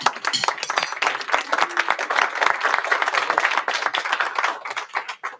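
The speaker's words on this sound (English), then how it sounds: "Big round of applause." Dense, sustained applause from an audience at the final of the European Young Chef Award 2022 cooking competition, a steady wash of many hands clapping close by for several seconds before thinning at the end.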